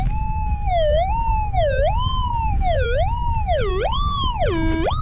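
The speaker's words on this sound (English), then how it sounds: "I got a signal that sounds like a big chunk." A metal detector sounds a loud, continuous warbling tone over a buried target, sliding up and down in pitch in repeated swoops that grow deeper toward the end, with a low rumbling background underneath.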